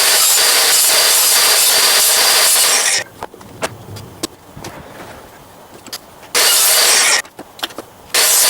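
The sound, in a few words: table saw crosscut sled cutting wood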